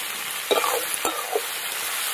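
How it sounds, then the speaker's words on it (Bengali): Carrots, beans, peas, capsicum and chilli fry in a pan with salt for street-style egg fried rice, giving a steady close sizzle broken by a few soft stirring scrapes. "এই সবজিগুলো ভেজে নিতে হবে"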